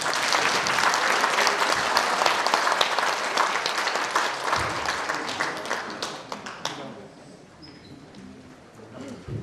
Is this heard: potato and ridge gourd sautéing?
no